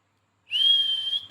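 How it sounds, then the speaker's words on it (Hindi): A single ultrasonic whistle blown in a comic-based story, a sudden shrill sustained tone lasting under a second, loud and close, with no talking. "मैं इस धागे को खींचकर निगली हुई अल्ट्रासोनिक सीटी को बाहर निकाल लेता हूँ"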